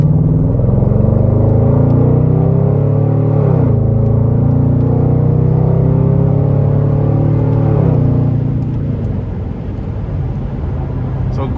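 2012 Chevrolet Camaro 2SS convertible with a naturally aspirated V8, accelerating hard from inside the car; a loud, rising engine drone climbs in pitch, shifts, climbs again, then eases off, with someone talking over it.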